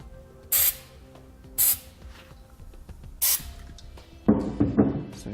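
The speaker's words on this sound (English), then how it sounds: "So you just spray a little bit on there." Three short hissing bursts from an aerosol spray can applying grease to a gooseneck trailer hitch ball, each about a second apart, followed by a louder scuffing handling noise.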